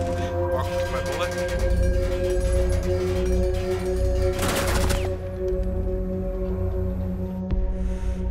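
Machine gun fire in Rainbow Six Siege on a yacht map, a sustained burst of rapid shots that stops abruptly partway through, with game ambience continuing underneath.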